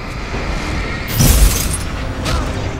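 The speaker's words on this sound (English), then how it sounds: "That shotgun." A single heavy shotgun blast booms out in the Alan Wake video game, a loud close burst with a crackling tail, followed by a second fainter shot a moment later.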